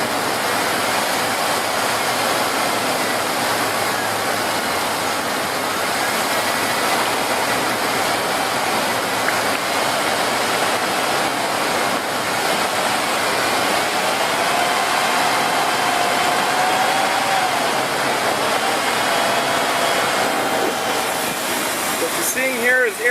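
A 2006 Dodge Dakota engine runs and revs while air is bled from its cooling system, producing a steady, loud, broadband roar that holds without a break.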